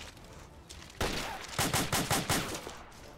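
Video game gunfire fires in a loud single shot, then in a rapid burst of six or seven evenly spaced shots, with no talk.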